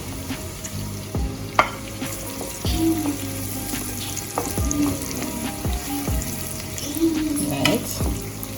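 Scallion, garlic and onion frying over low heat in preheated oil for a Jamaican breakfast, a soft continuous sizzle with occasional utensil taps and stirring scrapes close by.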